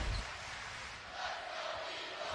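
A big basketball crowd at the Ford Center chanting let's go Eagles, heard as a distant, muffled roar of voices sustained under the broadcast mix.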